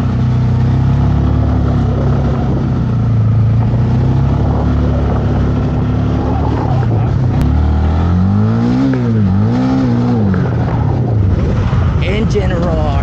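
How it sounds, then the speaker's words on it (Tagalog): A Honda Winner X 150 motorcycle, Black Premium version, revs with a loud, steady engine drone that rises and falls in pitch toward the end, while someone talks over it. "Engine roar."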